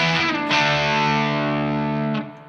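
Electric guitar through an Origin Effects Halcyon overdrive pedal set to Klon mode with knobs at noon, a strummed chord ringing out with light drive, then a second stroke that sustains and fades.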